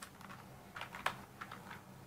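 Keystrokes on a computer keyboard while typing in Microsoft Word: a handful of light, separate clicks spaced unevenly over two seconds, with one sharper tap near the middle, heard close and alone against a quiet room.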